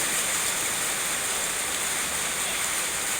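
Rain falls steadily, a constant broadband hiss of water on surfaces with no distinct drops or voices, moderately close and even throughout.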